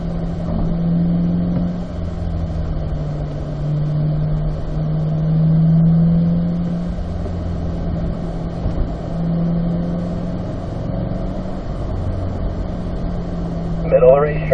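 Chevrolet Corvette C8 on a racetrack at a driving school, its engine holding a steady mid-pitched drone heard from inside the car as it runs through a corner, with an instructor's voice talking over it.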